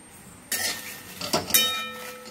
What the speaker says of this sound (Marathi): त्यानंतर तळून घेऊया तमालपत्री, त्याला पण 2 चमचे तेल टाकून आपल्याला भाजून घ्यायचं आहे।